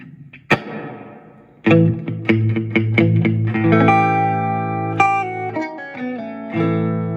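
Electric guitar through a Fender Champion 20 amp with reverb and chorus effects: a sharp pluck, then a run of strummed and picked chords that ring out with a shimmering, spacious tail, played loud and alone.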